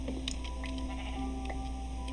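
Sheep bleats from the game Minecraft, a few short faint calls over a steady hum with soft ticking in the background.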